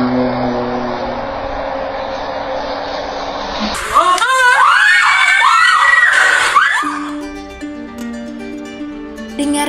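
After a droning background, a woman's piercing high-pitched voice shrieks hysterically in a series of wavering screams in a hotel, loud and close, before fading back to an electronic drone.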